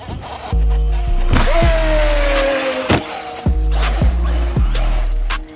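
Traxxas Maxx Slash RC car with something rubbing on its body, a loud electric motor whine rising and falling with repeated scraping, rattling bursts as the car drives, close up, no talking.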